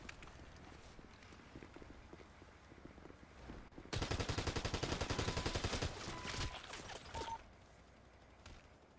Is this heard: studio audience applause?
no